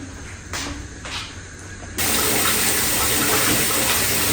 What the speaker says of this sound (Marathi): सिंकमध्ये तर गरम पाणीच ॲड करते मी